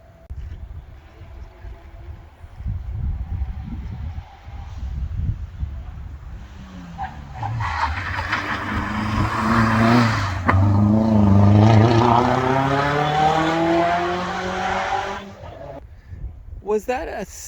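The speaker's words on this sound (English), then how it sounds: "Oh, a slippy clutch. Little turbo Miata." A small turbocharged Mazda Miata race car at a hillclimb entrance corner, engine rising loud and close with gear changes and a slipping clutch, heard under steady talk.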